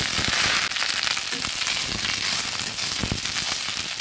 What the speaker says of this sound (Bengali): এবার সজনে পাতাগুলো দিয়ে দিচ্ছি। এবার ভালোভাবে নেড়ে হালকা ভেজে।